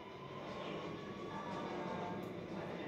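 Steady, continuous engine roar of a fighter jet in the video game GTA 5, droning at constant loudness throughout with no clear rise or fall.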